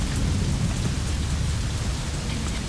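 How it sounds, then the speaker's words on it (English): Steady heavy rain with a deep rumble of thunder from a weather mod in the Oblivion video game, a dense, loud, unbroken downpour with low rolling booms underneath. "Jeez, the rain is loud."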